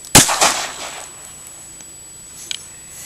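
A single sharp gunshot from a gun firing cheap Remington rounds outdoors, a loud crack with a short ringing decay, followed by faint clicks.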